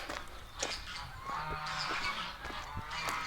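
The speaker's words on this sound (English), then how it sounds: "I seem to have freaked out the geese" A flock of geese honking repeatedly at moderate distance, overlapping calls forming a noisy, continuous chorus.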